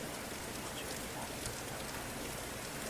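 Steady rain falls and patters on surfaces on a dark, frightening night, a soft continuous hiss with no break throughout.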